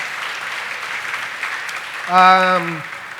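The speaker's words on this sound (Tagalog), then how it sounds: "So, palakpak kita." A church congregation claps steadily at a 30th anniversary service, a dense, even wash of applause, then a short voiced cry rises briefly over it near the end.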